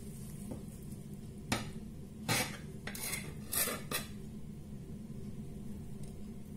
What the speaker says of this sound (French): je vais essayer de couper. J'espère qu'il va bien se couper parce qu'il est encore chaud.